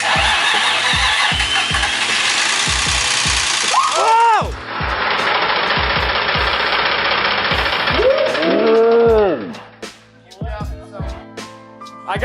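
A rebuilt Nissan 350Z engine fires for its first start-up, cranking into a rough running idle with a loud, rhythmic mechanical clatter from the power steering, then shutting off. Voices talk faintly near the end.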